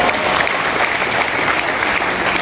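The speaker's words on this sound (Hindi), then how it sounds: "जिनकी तालियां बज रही हैं उनका नंबर पहले आएगा" Audience applause at a Hindi-language motivational talk by B.C. Chhabra of RCM, a dense, steady wash of many hands clapping that holds loud and even throughout with no break.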